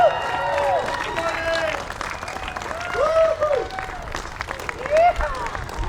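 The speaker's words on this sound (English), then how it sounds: "Let's give a round of applause, please." An audience at a People's Party political rally in Hamilton claps and cheers, the applause mixed with crowd noise and a few brief louder swells.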